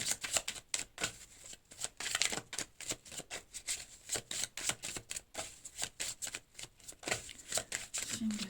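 Tarot cards are shuffled and drawn in a fast, rhythmic run of crisp riffling flicks that carries on steadily for several seconds, close up, with a voice talking faintly underneath.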